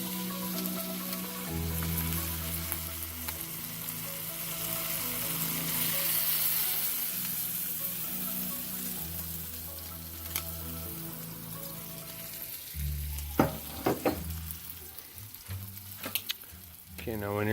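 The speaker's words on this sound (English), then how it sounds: "it's important that you keep moving the ingredients around all the time" Eggs with ham and cheese sizzle in a hot pan while being stirred steadily, a continuous frying hiss with scraping strokes near the mic, a low steady hum underneath and a few sharper utensil knocks near the end.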